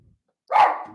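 One puppy bark close by after a brief quiet pause, fairly loud with a short trailing tail.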